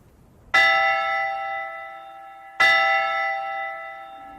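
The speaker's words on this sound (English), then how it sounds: "Shall I ring the bell for Vespers?" A church bell rung for Vespers, two loud clear strikes about two seconds apart, each ringing out with a long shimmering decay, nothing else heard.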